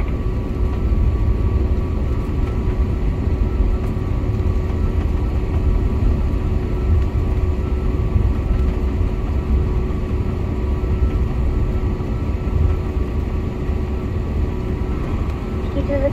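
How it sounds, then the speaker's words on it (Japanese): An ANA airliner taxis after landing at Takamatsu Airport, with a steady low engine drone heard from inside the cabin and a voice faintly over it. "飛行機は間もなく停止しますが、皆様の安全のため。"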